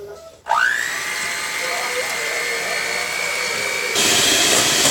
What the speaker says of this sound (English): beating all those egg whites